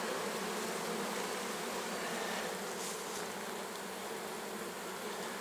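A dense, steady drone of many honeybees buzzing together at a hive, continuous and unbroken, with no voices.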